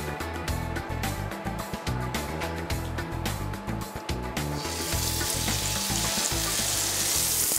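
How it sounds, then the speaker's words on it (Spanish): Churrasco beef sizzling in oil in a hot frying pan, a loud, steady frying hiss with crackling pops that swells into a denser, brighter sizzle toward the end, no talking. "Este es el sonido que tiene que escucharse cuando uno pone un churrasquito en el sartén o en la plancha,"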